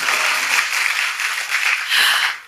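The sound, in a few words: congregation applause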